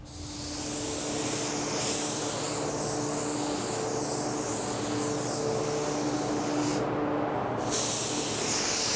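A paint spray gun hisses steadily as it applies House of Kolor SS01 silver sealer, a continuous close airy spray held for several seconds with a brief dip near the end.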